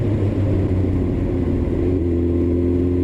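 Classic Honda motorcycle engine running steadily at an outdoor Honda owners club meet, a low, even rumble close by that holds constant throughout with no speech.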